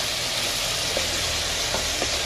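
Ground beef sizzles in a pan while browning for a pasta casserole, giving a steady, dense hiss with faint crackles and a few soft clicks throughout, fairly loud and close, with no talking.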